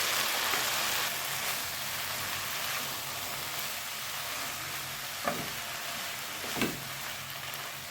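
Thumbai greens sautéing with tomato in a pan, a steady soft sizzle with two light stirring scrapes near the end.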